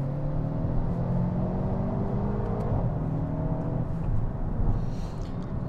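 Mercedes-AMG A35 4MATIC accelerating, a steady loud in-cabin engine drone and road rumble rising gently, with no talking during the pull.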